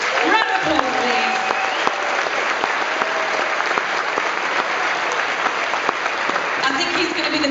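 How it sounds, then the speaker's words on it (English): Concert audience in Newcastle City Hall breaking into loud, sustained applause for a tenor soloist, close and dense clapping with a few faint voices mixed in. "Round of applause, please."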